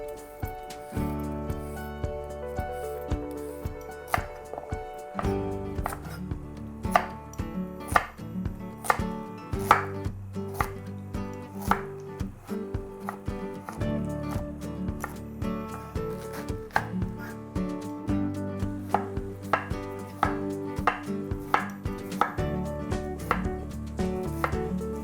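A knife thinly slicing carrot, green pepper and white cabbage on a cutting board: rapid, steady chopping taps repeating for a long stretch at close range, with short pauses between runs and no talk.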